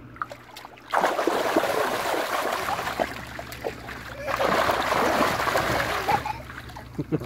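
Young child splashing in water, with two longer spells of lively splashing and sloshing close by while adults talk and cheer over it.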